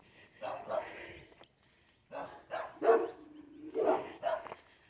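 Several dog barks come in two bursts, fairly close and loud, from a dog met along a walking trail; a person speaks faintly between the barks.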